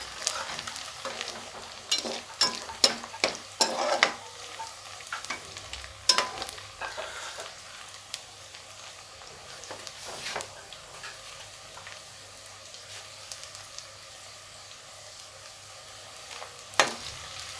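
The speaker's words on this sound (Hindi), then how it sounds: "एक चम्मच डाल देंगे सफ़ेद ज़ीरा। एक से 2 मिनट फ्राई करेंगे।" White cumin seeds fry in a pan with a soft, steady sizzle, broken by a series of sharp spoon scrapes and stirring clicks, with quieter stretches between.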